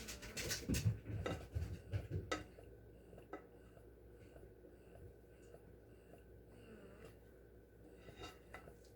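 Banana bread batter is scraped from a mixing bowl with a utensil, giving scattered scrapes and clinks that cluster loudly in the first few seconds, then fade to quieter, sparse scraping.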